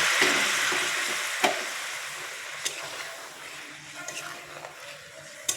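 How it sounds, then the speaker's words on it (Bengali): Hot water hits spiced potatoes frying for an egg kalia, setting off a loud burst of sizzling that fades into a softer bubbling hiss, with a few sharp utensil knocks close by. "এখন এর মধ্যে দিয়ে দেব কিছুটা গরম জল।"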